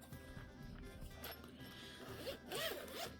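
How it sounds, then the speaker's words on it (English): Zipper being pulled open on an Ohuhu Kakaako acrylic marker package, a quick rasping zip rising clearly near the end after some rustling of packaging. "There is our zipper."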